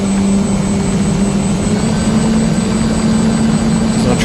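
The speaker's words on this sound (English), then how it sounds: "You can hear the engine revs increase" Ranger 1600 FPV model airplane with an electric motor on a 5 amp Turnigy battery, droning steadily and loudly with a constant buzzing tone throughout, with no voices.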